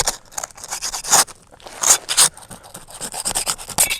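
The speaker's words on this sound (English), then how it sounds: "I'm going to take my trowel and I'm going to break the seal" A metal trowel scrapes and pries under roof shingles to break their adhesive seal, making close, uneven bursts of gritty rubbing and scraping over four seconds, with no talk.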